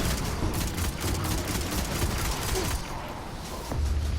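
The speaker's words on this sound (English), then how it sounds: "I am using the Sacred Providence from Garden of Salvation as my pulse rifle for this" Sacred Providence pulse rifle in Destiny 2 firing rapid repeated bursts, a dense rhythmic stream of punchy shots with ongoing game combat noise behind it, loud and continuous with a brief lull near the end.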